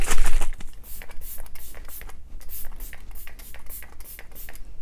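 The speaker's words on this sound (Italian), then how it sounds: "ora vado a fissare il tutto con il fantastico Glow Setter di Glam Glow" Glam Glow Glow Setter setting spray misted in a rapid series of short, close hissing pumps, one after another with a steady rhythm.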